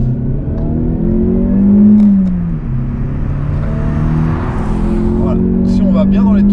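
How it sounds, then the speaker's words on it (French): A Mazda 3 SkyActiv-X 180 engine revs up under acceleration, its pitch climbing and dropping through gear changes, heard from inside the car while someone talks over it. "Si on va bien dans les tours, chercher la puissance, effectivement, il a une bonne accélération"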